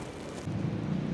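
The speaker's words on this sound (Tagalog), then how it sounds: "Lakas ng ulan, guys." Heavy rain falling outdoors on a trip in Busan, heard as a steady, dense broadband hiss that grows slightly louder midway, close and continuous with no talking.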